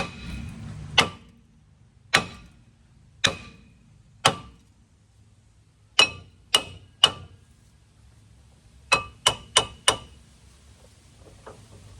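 Sharp metallic hammer blows on a 2008 Honda Civic brake rotor ring out in bursts: four evenly spaced strikes, then a quick group of three, then four rapid hits, each with a brief ringing decay.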